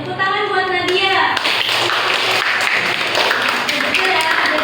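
A classroom of students claps for a classmate during a microteaching practice lesson, steady dense clapping that fills the clip after a few tapping sounds at the start, with a teacher's voice and children's voices briefly audible.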